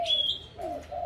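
A caged bird in a breeding aviary sings loudly and up close, giving two or three bright whistled phrases with short gaps between them. No one speaks.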